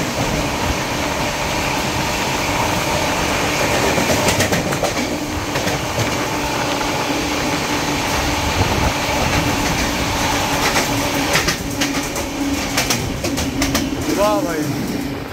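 The Humsafar Express runs at speed while overtaking the Prayagraj Express near Aligarh, giving a loud, continuous rail rumble with rhythmic wheel clatter and passing rattles, with a voice speaking over it.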